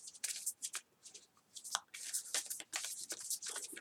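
Oracle cards are shuffled by hand in quick, crisp bursts of riffling and slapping, with short pauses between rounds, close and fairly quiet.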